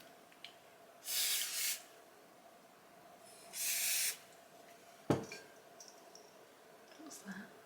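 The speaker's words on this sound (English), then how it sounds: "Kevin Murphy Session Flex Spray" Kevin Murphy Session Flex hairspray sprays from a can in two close, sharp hissing bursts of about a second each, followed by a thud and faint rustling, with no talk.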